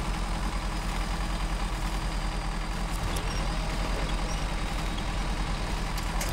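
Steady, loud low rumble of a truck engine idling in SnowRunner, continuous and close with no change in pitch, without speech over it.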